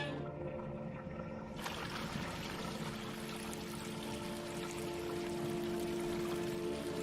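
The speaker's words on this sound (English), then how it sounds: "Did I turn on the water?" A tap in the video game Quern runs, releasing a steady hiss of flowing water that swells suddenly after a quieter start and then holds constant and moderately loud.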